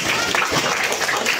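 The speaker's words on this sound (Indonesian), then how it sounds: "Tepuk tangan dulu, tepuk tangan." A group of schoolchildren claps together at an elementary school event, dense applause throughout the brief moment at fairly close range.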